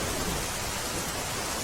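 Dense, loud, unbroken roar of heavy rain pouring down on the Dwarka–Limbdi highway, a constant wash of noise with no voices.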